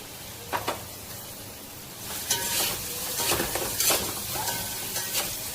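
Finely chopped onion sautés in a pan after ginger-garlic paste, giving a steady sizzle with scraping stirs and a few clinks of a utensil against the pan, close and moderately loud.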